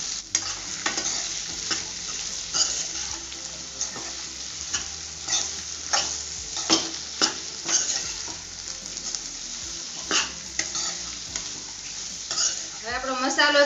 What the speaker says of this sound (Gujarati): હવે આ બધું આપણે મિક્સ કરી લઈશું